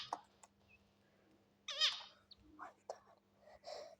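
A pet bird gives faint, sharp chirping alarm calls in short scattered bursts, with a slightly louder squawk partway through, over a quiet indoor hum.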